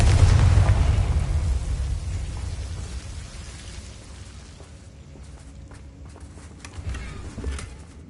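A booming blast from the Confringo fire spell in Hogwarts Legacy hits loud and low at the start, then rumbles and crackles away over several seconds, with scattered debris-like patter near the end.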